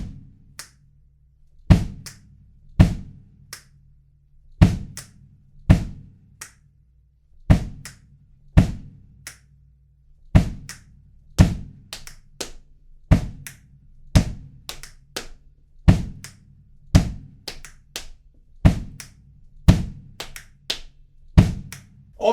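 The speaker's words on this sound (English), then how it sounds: "if we were to use finger clicks and hand claps, it would sound like this" Finger clicks and hand claps with a kick drum play a steady, repeating pattern of sharp percussive hits, close and clear with no talking.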